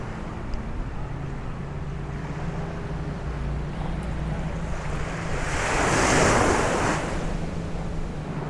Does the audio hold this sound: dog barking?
no